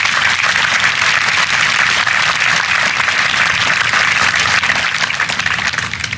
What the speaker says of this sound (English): Let's give another great round of applause to Governor Mike Foster.